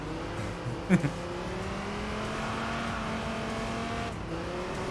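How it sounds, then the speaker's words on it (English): Aggressive race car engine in the video game Enthusia Professional Racing drones steadily with sustained harmonic tones throughout, loud and continuous, with a brief sharp knock near the start. "You can hear the more aggressive engine as well."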